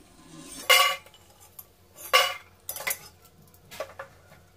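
Several sharp clanks of a metal utensil against a pot as deep-fried, reddened food is lifted into another pot, four separate bursts spaced a second or so apart, with quiet stretches between.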